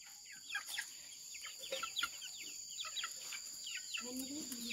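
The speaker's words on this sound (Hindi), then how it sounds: "मुर्गियाँ उधर उधर मत जाने देना।" Chickens cluck and chirp in short, scattered bursts while being tended outdoors, moderately close over a steady high-pitched background hum.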